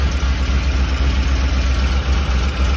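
A 2008 Ford 5.4 3V V8 idles with a bad ignition miss, a loud close rumbling drone with an uneven, lumpy pulsing rhythm running steadily throughout.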